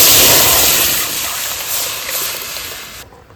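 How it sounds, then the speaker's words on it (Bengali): Watermelon juice poured into a hot wok gives a loud, steady hissing rush close by that slowly eases and cuts off abruptly near the end. "কড়াইটা বসিয়ে দিয়েছি, এখন এই তরমুজের রসটা ঢেলে দেবো।"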